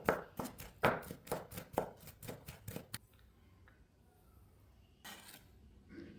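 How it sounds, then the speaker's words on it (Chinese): A kitchen knife mincing garlic on a cutting board: a fast, steady run of close, crisp chops for about three seconds, then near quiet, then a brief burst of chopping again. "把蒜头都切成薄片，随后再剁成蒜末"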